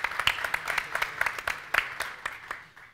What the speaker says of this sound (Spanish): pido un aplauso para Mario y la Unión Industrial de la provincia